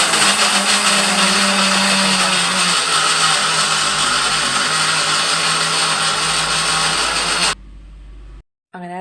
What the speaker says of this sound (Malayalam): ഞാനത് അരച്ചെടുക്കാനായിട്ട് നോക്കുകയാണ് അപ്പോൾ മിക്സിയുടെ ജാറിലേക്ക് അതൊക്കെ ഇട്ട് കൊടുത്തു